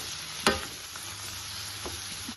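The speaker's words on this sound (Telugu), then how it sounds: "కొంచెం ఫ్రై అవుతూ ఉందండి" Egg masala gravy with tomato and onion frying in oil, a soft continuous sizzle with a sharp clink of a utensil early on and a few light stirring scrapes after it.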